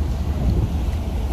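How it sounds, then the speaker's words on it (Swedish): Rain falls steadily on an overcast day in Sassnitz, Germany, a dense low rushing wash with some wind, continuous and fairly close, with no voices. "Det är mulet och det regnar."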